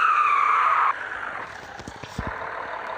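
A car drifts in the video game CDID, its engine droning steadily under a high, sustained tire squeal that cuts off abruptly, followed by rougher road noise and scattered thumps.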